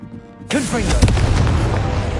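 A Confringo blasting spell goes off in Hogwarts Legacy, a sharp explosive burst followed by crackling, rumbling debris and a swirling magical whoosh, loud and close with a voice around it.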